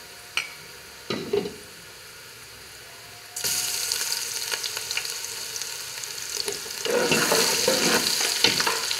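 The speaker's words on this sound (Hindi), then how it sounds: "इसको थोड़ा सा फ्राई करेंगे और साथ ही हम डाल देंगे अदरक लहसुन का पेस्ट" A pan sizzles steadily after a few clinks as ginger garlic paste fries, the frying growing louder and hissier, with scraping stirs toward the end.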